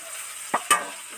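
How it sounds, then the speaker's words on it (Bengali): Large potato pieces hit hot oil in a kadai, giving two quick sizzling bursts over a faint steady frying hiss, close and otherwise quiet. "এই বড় বড় আলুগুলো এবার কড়ার মধ্যে উঠিয়ে দিলাম,"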